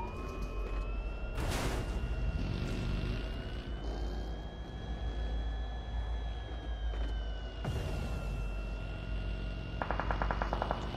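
Bursts of rapid gunfire in the video game PUBG Mobile crackle at the start, middle and end, over a steady droning hum, fairly loud and close.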